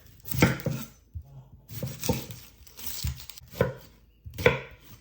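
A red onion is chopped on a board for falafels: five distinct bursts of knife strokes, each a cluster of close, crisp thuds, with short pauses between.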